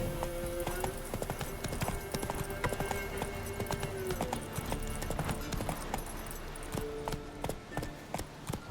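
Horse galloping in The Witcher 3, a fast steady clip-clop of hooves on the ground, close and continuous over a low game ambience.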